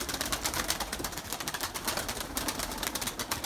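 Purebred Erzurum white breeding pigeons in their loft, soft cooing and bird sounds mixed with a constant rattling, crackling noise.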